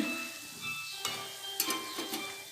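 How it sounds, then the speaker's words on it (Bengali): Mixed spices for capsicum chicken fry lightly in a pan over low heat, a soft steady sizzle with a few brief scraping stirs, close and fairly quiet, with no talking. "দেখতেই পাচ্ছ সব মশলাগুলো মিক্স করে দিয়েছি, একটু হালকা করে ভেজে নিচ্ছি।"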